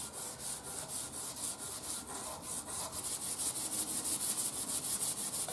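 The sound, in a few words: rubbing radio metal with coarse steel wool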